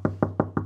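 Knocking on a door, four evenly spaced firm raps in quick succession, close and clear, over a steady low hum.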